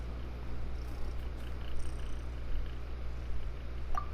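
A cat in Genshin Impact purrs softly and continuously under a low, steady ambient hum, with a faint brief chirp near the end.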